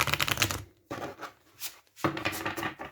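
Tarot cards riffle and slide together in quick rustling bursts, close and fairly quiet, with short pauses between shuffles.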